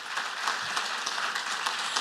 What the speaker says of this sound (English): I think we ought to give them a big round of applause